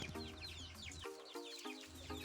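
Native chickens cluck in a backyard farm, a close, busy chorus of short repeated clucks and murmuring calls that overlap continuously, with no talk.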